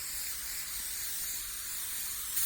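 An airbrush sprays violet paint over a stencil on a skull design, giving a steady, close hiss that runs unbroken and fairly evenly, swelling slightly near the end, with no talking.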